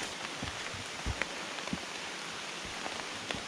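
Steady rain pattering on a surface outdoors on a hiking trail, a continuous hiss with scattered louder drips and taps.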